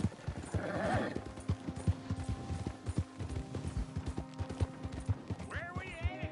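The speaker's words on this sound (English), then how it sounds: "You got a horse? Get on it." Horse hooves clip-clopping at a steady pace during riding in Red Dead Redemption 2, with game sounds and a brief vocal burst early on, moderately quiet.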